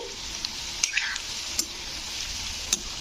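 Chilli chicken pieces fry in hot oil in a wok, a steady close sizzle running throughout with a few sharp pops and clicks of stirring scattered across it, no voices.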